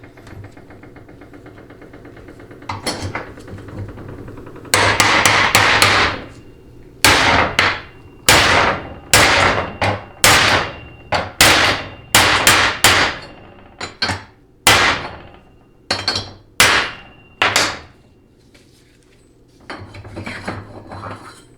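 Metal hammer strikes driving a bushing into a 2WD transmission extension housing (4L60E, 700R4, TH350 type), about fifteen loud, sharp ringing blows in an uneven rhythm, close up, with short pauses between strikes.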